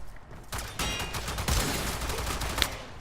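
Euphona Prime firing in its alternate fire mode in the Warframe video game, a dense, loud run of overlapping shots that sounds like a continuous fusillade.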